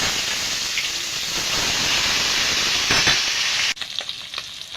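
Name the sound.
bata fish frying in oil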